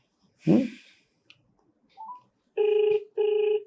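A telephone rings twice in loud, steady electronic bursts, preceded by a brief breathy sound and a few faint clicks.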